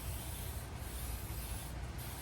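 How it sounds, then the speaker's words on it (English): Brake cleaner is sprayed onto the front brakes of a 2013 Mercedes Sprinter 2500, a continuous close hiss of aerosol spray that holds steady without pause. "use the brake cleaner and then spray, make sure there is no grease"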